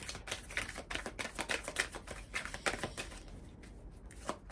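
Oracle tarot cards are handled and shuffled in quick, rustling bursts of crisp card flicks and slides, close and fairly quiet, with a brief lull near the end before one more riffle.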